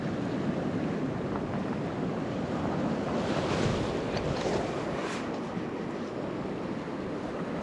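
Ocean waves surging against a rocky shoreline, a steady, dense roar of surf with wind noise across the microphone, loud and continuous with no speech.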